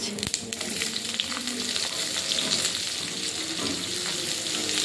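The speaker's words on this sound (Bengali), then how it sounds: "পেঁয়াজটা ভাজা ভাজা করে নেব" Onion fries in oil in a kadhai, a close, continuous sizzle with stirring noises throughout.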